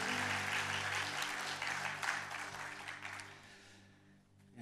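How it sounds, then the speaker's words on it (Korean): A church congregation at an ordination service applauds to welcome a pastor, steady full clapping that thins and fades toward the end, with a low organ-like tone sustained underneath. "박수로 환영하겠습니다"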